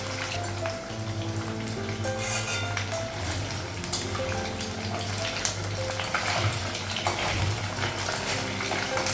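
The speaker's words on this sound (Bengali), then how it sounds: "তেলটা গরম হয়ে গেছে, তো মাছটা লাগিয়ে দিয়েছি" Hilsa fish frying in hot oil, a continuous crackling sizzle with popping spatters, steady and close throughout, with a low background hum.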